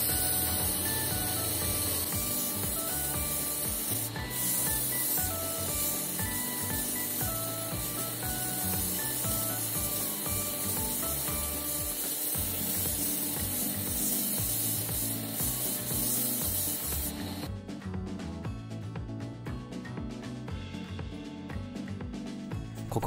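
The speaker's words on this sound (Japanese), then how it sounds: "細く切ったベルトで角を取りながら" Steady, loud abrasive rasping of a narrow cut belt on a belt grinder sanding the edges of a CPM D2 powder-steel wagyu gyuto knife, continuous with slight rhythmic variation and a tonal shift toward the end.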